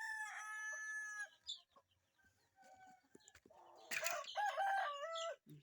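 Chickens clucking and crowing nearby, with busy overlapping calls, a short quieter gap, then louder squawking toward the end.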